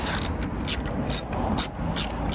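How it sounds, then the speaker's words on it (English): A Torx 30 ratchet backs out roof rail bolts on a three-door Land Rover Freelander 1, giving quick bursts of close, crisp pawl clicking in short repeated strokes. "What you need is a Torx 30 to take the roof rails off."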